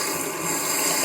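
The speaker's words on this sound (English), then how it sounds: "here it is with the water running through, like so" Water runs steadily from a tap and drains through a newly fitted pop-up sink plug, making a continuous close rushing hiss with no talking.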